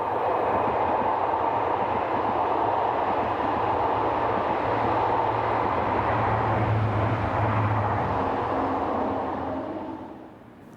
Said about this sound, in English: a Class Z76500 unit overtakes the train whilst on a working from Caen